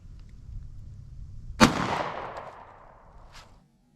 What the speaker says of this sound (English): I'll put 2 shots into the block with the Nano.